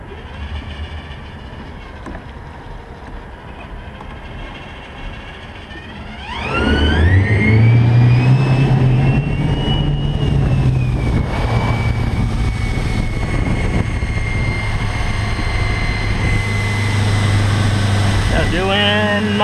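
An electric conversion car pulls away hard with a loud, close whine that rises in pitch and then holds steady as the motor winds up, with road and drivetrain noise underneath and someone talking now and then.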